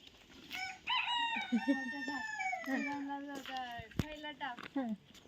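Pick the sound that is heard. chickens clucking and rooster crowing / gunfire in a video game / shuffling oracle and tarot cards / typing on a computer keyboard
chickens clucking and rooster crowing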